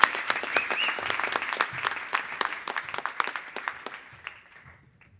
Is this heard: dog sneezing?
no